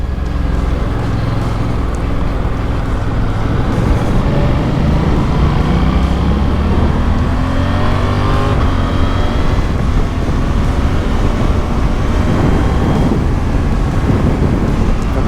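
Suzuki V-Strom DE or GSX-8S motorcycle engine on a road test, a loud, steady engine drone with rising revs under heavy wind rush, continuous throughout.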